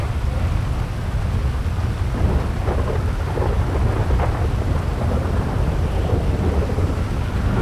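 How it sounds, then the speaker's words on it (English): Steady heavy rain pours outdoors near an airport during a thunderstorm, with low rumbling thunder rolling continuously underneath and no voices over the loud, even wash. "We got a thunderstorm coming in again."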